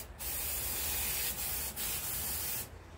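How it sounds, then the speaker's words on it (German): A continuous, close hiss of disinfectant spray is aimed from about 20-30 cm at an air conditioner's heat exchanger, held steady for nearly three seconds with two brief gaps in the stream. "sprüht den gesamten Wärmetauscher mit dem Desinfektionsspray ein"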